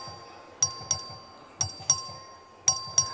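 An electronic bell in the Texas House of Representatives chamber, rung for a record vote, sounding in three pairs of bright, clear dings with quiet room murmur underneath.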